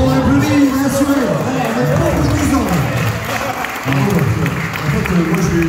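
Audience applause with crowd noise, loud and steady for several seconds with a brief dip near the middle, mixed with speech-like babble.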